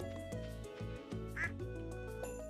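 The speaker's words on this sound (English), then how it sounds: "Okay, Duck, where are you hiding?" In the farming game Stardew Valley, a duck gives a single brief quack over steady, gentle game music, clear but not loud.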